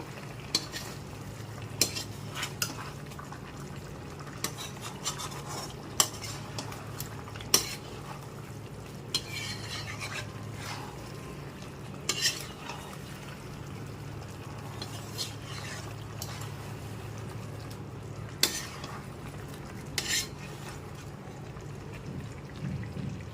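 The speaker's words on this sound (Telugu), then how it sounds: "చికెన్ కొద్దిగా ఉడికింది. ఒకసారి తిప్పుకుందాము." Chicken fry for a spicy home-style dish is turned in a pan, its lid just lifted and a little liquid released; a low sizzle runs throughout under repeated clinks and scrapes of a spoon against metal.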